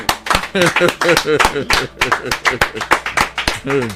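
Steady rhythmic hand clapping in a studio broadcast, close and loud, with a voice speaking over it the whole time.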